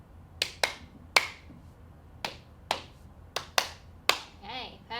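Sharp finger snaps click out during a seated dance exercise class for people with Parkinson's. There are about eight crisp snaps in an uneven rhythm, some in quick pairs. A brief voice comes in near the end.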